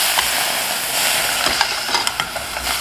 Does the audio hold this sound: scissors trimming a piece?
no